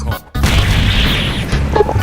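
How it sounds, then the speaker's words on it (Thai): A bomb blast in a ranked 2v2 action video game, a loud sudden boom that bursts in after a brief gap and rumbles on, with game effects and a faint voice underneath. "กดระเบิดกดระเบิด"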